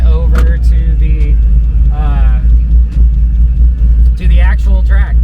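A C5 Corvette rolling toward a drag-strip staging area gives a steady, close, low engine rumble that holds throughout, with people talking over it inside the car.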